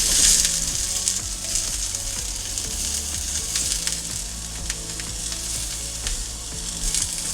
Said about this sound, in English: you can see our zucchini squash is starting to get a little sear on it